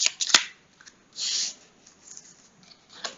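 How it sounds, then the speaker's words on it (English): Propaganda cards from a solo COIN board game shuffled by hand on a tabletop, heard as short, quiet riffles and snaps with a brief burst of card noise in the middle. "Let me shuffle here."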